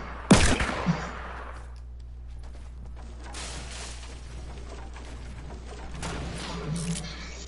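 Semi-automatic weapon firing in the Fortnite video game: a loud, sharp shot opens, followed by a few quieter reports and clatter, with players talking over voice chat.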